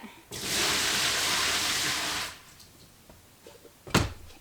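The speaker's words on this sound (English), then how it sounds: "I'm going to pour this out in my gray water bucket" Water poured out of a container into a gray water bucket while rinsing felt for hat making, a steady gushing splash lasting about two seconds, followed by quiet handling and a sharp knock.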